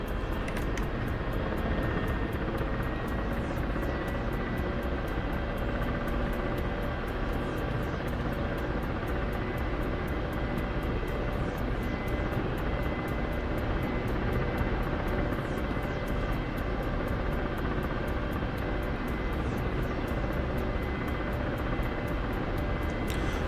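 Jet aircraft engine in a flight simulation game on a desert mission, a steady, loud, continuous roar and whine that holds unchanged for over twenty seconds.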